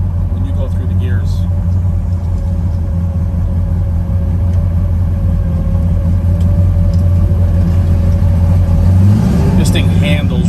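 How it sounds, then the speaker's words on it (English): A 1968 Chevrolet Camaro's engine rumbles deep and steady from inside the car as it accelerates, then its pitch climbs near the end. A voice is faintly present under the engine drone. "This front end wants to come up when you go through the gears."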